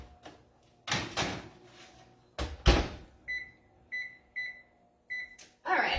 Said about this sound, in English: So I'm going to throw this in the oven.